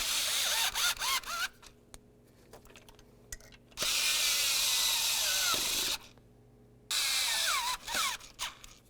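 A power drill drives the ignition coil bolts on a 2000-2005 Buick LeSabre, whirring in several loud bursts of a second or two, separated by quiet pauses and short ratcheting clicks.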